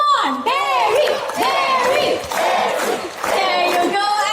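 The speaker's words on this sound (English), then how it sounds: "There you go, excellent cheering" An audience at a live bird show cheers and shouts in loud waves, with rising whoops and children's voices swelling and dipping over several seconds.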